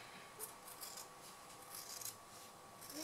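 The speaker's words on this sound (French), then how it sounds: "je peux passer mes ciseaux à l'intérieur de l'ouverture que j'ai faite" Scissors snip steadily through fabric while a handbag is sewn, giving repeated soft, close cutting and rubbing strokes in a quiet room with no talking.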